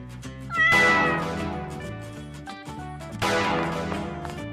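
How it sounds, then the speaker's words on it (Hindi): Domestic cat meowing in an animated story, two loud drawn-out meows close by, separated by a short pause, each sliding down in pitch. "ओह, वह सिर्फ घरेलू बिल्ली है"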